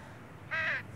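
A single crow gives one clear, fairly close caw lasting under half a second against faint outdoor background noise.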